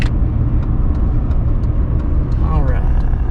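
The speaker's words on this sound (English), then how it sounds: "Truck's coming by." A truck passes on a road leading down to a boat ramp on Sam Rayburn Lake, its engine and tire noise a loud, steady roar that fills the whole moment from inside a moving vehicle.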